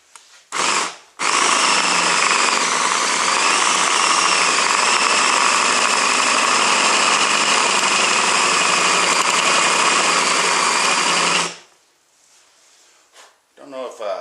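An air compressor, freshly oiled, runs in a home workshed after a short start-stop burst: a loud, steady mechanical drone with a whining tone that holds for about ten seconds, then cuts off into near quiet.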